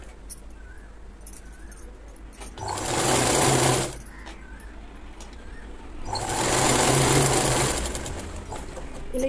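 A sewing machine stitches the bottom of a Punjabi dress in two close, moderately loud bursts of rapid stitching, each lasting about a second, over a faint background hum.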